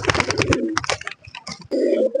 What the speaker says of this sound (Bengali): আমার কাছে বেশি ভালো লাগছে তোমার এই কবুতরটা ভাই, এই যে সাপচিলা কবুতরটা।